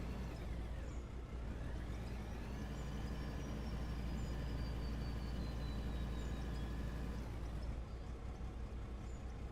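Haul truck engines droning on a lower mine road in the mining game Out of Ore, a steady low rumble with rising and falling engine pitch as trucks work, fairly faint and distant.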